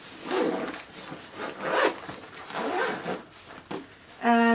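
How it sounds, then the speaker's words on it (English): A zipper being drawn closed along an insulated lunch bag packed full with food and a small container of salad dressing, giving a steady rasping run close to the microphone, with a voice speaking around it. "And let's zip it up."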